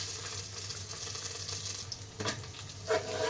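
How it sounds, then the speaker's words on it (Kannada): Fennel and coriander seeds frying in a pan on a home stove give a steady, soft sizzling hiss over a low hum, with a couple of brief clinks toward the end. "ಚೆನ್ನಾಗಿ ಫ್ರೈ ಮಾಡ್ಕೊಳ್ಳಿ"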